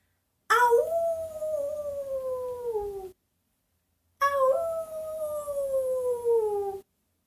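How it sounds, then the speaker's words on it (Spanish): Two long, sliding howls separated by a short silence, each starting high and gliding downward, loud and close. "Un lobo hermoso que le gustaba aullar."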